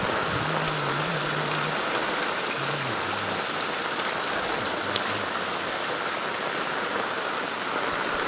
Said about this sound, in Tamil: இன்னும் மழை பெஞ்சிக்கிட்டே தான் இருக்குது.